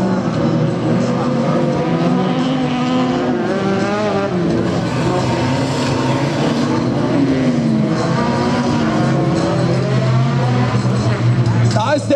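An autocross race car from a class 5 heat at Mölln roars past the start-finish line, its engine note rising and falling in pitch, loud and continuous, with a commentator talking over it.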